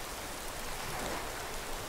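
Steady rain pours in a Skyrim game world, a dense even hiss of falling water spread wide across the scene, with no voices and no breaks.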